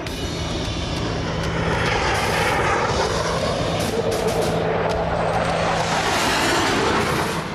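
F-4 and MiG fighter jets diving in aerial combat: a loud, continuous jet-engine roar fills the whole stretch without pause, a dense broadband rush with a low steady hum beneath it and no voices.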